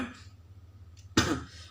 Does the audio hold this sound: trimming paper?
no